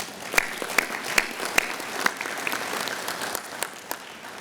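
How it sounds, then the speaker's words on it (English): Modest applause from an audience at a county summer safety general session, fairly soft and distant, with a few sharp individual claps standing out near the front. "I'd like to give those guys an applause as well."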